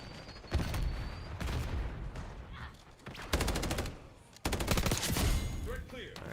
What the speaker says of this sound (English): you can't shoot through that with a fucking machine gun